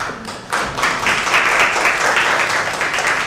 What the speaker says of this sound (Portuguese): Aqui eu peço uma salva de palmas.